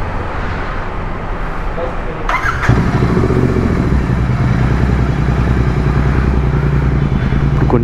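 A Royal Enfield Continental GT 650 with a freshly fitted Red Rooster exhaust idles loud and close, its deep throbbing rumble thickening after a sharp clatter partway through, then holding steady to the end.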